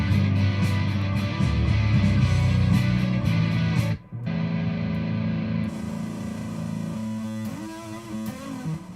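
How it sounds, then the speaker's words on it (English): Electric guitar played through a distortion effect pedal with heavy gain, a dense, buzzing, sustained wall of chords and notes that cuts out briefly midway then resumes, loud and alone. "That's just a distortion one."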